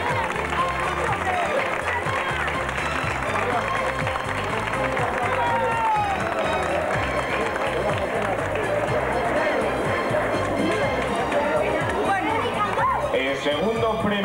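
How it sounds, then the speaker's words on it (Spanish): Applause mixed with crowd chatter and babble at an outdoor San Cristóbal village fiesta prize-giving in Navas de Oro, 1998, steady and busy with voices throughout. "Un fuerte aplauso para él"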